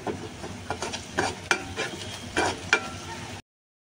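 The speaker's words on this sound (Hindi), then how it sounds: "थोडंसं सोया सॉस, थोडीशी चिली सॉस हे मिक्स करून घेणे" A spoon stirs a soy sauce and chili sauce mixture for paneer chilli in a pan, with uneven scraping strokes over a soft sizzle, close and moderately loud, ending in a sudden cut to silence.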